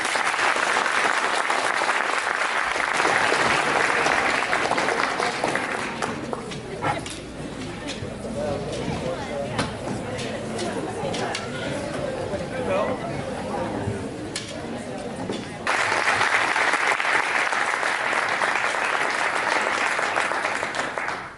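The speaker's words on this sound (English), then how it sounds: "So one more round of applause for them, please." Sustained applause from an audience, loud and steady, dipping into quieter murmuring in the middle before swelling again toward the end.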